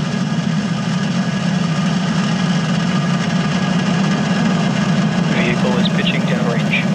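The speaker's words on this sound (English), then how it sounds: "Engines full power. And liftoff. Go Falcon," Falcon rocket engines roar at liftoff on the Florida coast, a steady, loud low rumble filling the whole stretch, with a launch announcer talking over it near the end.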